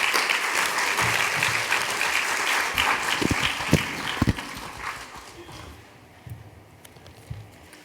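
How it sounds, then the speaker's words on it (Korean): A church congregation claps steadily and loudly to welcome a visiting pastor, the applause thinning out and fading toward the end, with a few louder claps and faint voices. "우리 축복과 환영의 박수로 맞이해 주시면 감사하겠습니다."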